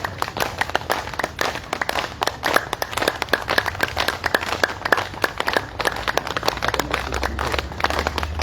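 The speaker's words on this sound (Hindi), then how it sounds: "तालियां तो अच्छी बजाओ" An exercise class claps hands together in a steady, dense patter of many overlapping claps, loud and continuous throughout, with a low rumble underneath.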